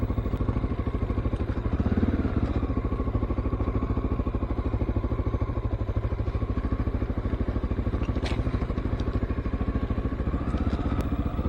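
Honda XR650L dual sport motorcycle engine chugging steadily on a dirt trail, a continuous loud, even thump close by for the whole stretch with a few light clatters over it.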